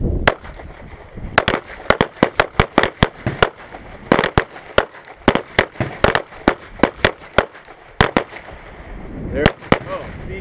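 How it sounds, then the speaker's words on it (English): Pistol shots ring out at a defensive pistol training range as shooters fire at a target, with many sharp, loud reports in rapid, uneven clusters that overlap one another, ending with a few scattered shots. "All right, 5 shots onto the center target of your target."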